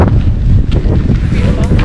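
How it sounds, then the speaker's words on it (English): Strong wind buffets the microphone in loud, rumbling gusts, continuous and close throughout, at Antelope Canyon. "Super windy."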